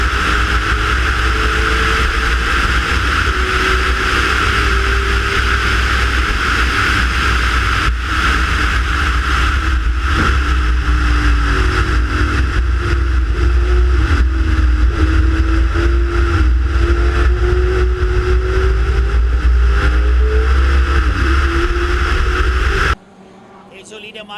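Racing cars roar past on a circuit straight, a 1968 Mustang among them, their engines loud and sustained with rising and falling pitch, while a commentator talks over the noise throughout.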